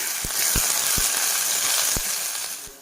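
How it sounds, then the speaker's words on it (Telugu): Sliced onions dropped into a hot pan for curry, a bright continuous sizzle with a few soft thumps and stirs, close and fairly loud, no talking. "స్లైస్డ్ ఆనియన్ వేసుకుందామండి"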